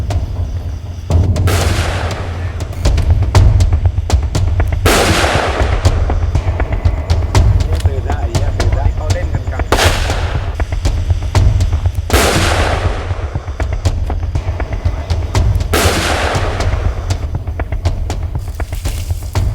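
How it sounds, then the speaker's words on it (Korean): Firecrackers set off by farmers to drive wild elephants away, heard as four or five loud sharp blasts spaced several seconds apart, each with a long rumbling echo, over a constant low rumble in the night countryside. "농부들은 다급히 폭죽을 터뜨립니다"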